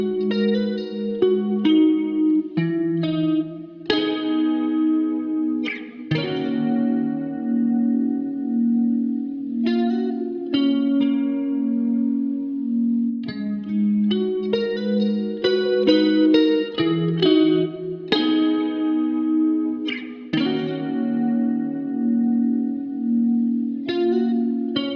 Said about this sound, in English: this is what the guitar sounds like